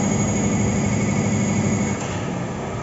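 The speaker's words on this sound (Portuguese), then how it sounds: "ele está fazendo o balanceamento das rodas" A wheel balancing machine spins a car wheel at a roadside repair shop, giving a loud, dense, steady whirring roar that drops slightly in level near the end, heard close with no talking.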